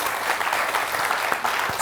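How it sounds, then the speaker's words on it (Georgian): Studio audience at a Georgian comedy contest show applauding a contestant, bright, dense clapping that stays steady and fairly loud from start to finish. "ერთი აპლოდისმენტები მიუძღოთ ბატონ ჟილივერს"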